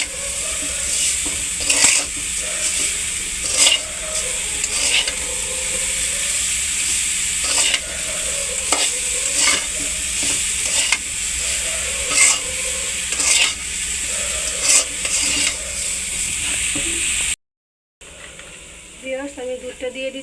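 A utensil scrapes and stirs coconut semai in a hot, sizzling pan, with regular clinks against the metal. The sound cuts out briefly just before the end.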